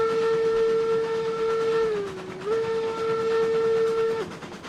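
A steam locomotive in the railroad game RailRoads Online sounds a long, loud whistle over hissing steam; the steady tone dips briefly in pitch midway and then holds for about four seconds before cutting off.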